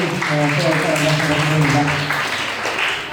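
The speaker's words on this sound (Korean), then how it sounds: "여러 박수 부탁드리겠습니다" Guests at a wedding hall ceremony applaud in a sustained ripple of clapping, heard beneath a voice speaking over it and softening toward the end.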